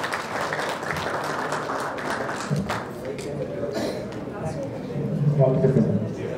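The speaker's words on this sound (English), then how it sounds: "So give them a big applause." An audience at a national radiographers' seminar claps in a sustained round of applause, with scattered voices and murmurs mixed in and a swell of clapping near the end.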